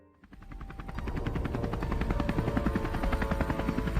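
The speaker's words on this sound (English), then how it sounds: "a helicopter, possibly the same one that had chased us, hovered by" A helicopter fades in from quiet, its rotor chopping in a fast, steady rhythm, close and loud, with a thin high whine above the thumping blades.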